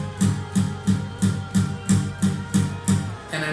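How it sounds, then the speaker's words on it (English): Muted power chords strummed on an acoustic guitar, eight short percussive chugs in a steady rhythm with a final ringing strum, close and alone. "a muted power chord would sound like this"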